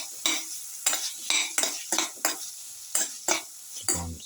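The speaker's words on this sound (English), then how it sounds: "Keep on sauteing." Salted potato pieces sautéing in a pan, with about nine loud, close spatula scrapes and stirs in a fairly regular rhythm over a light sizzle.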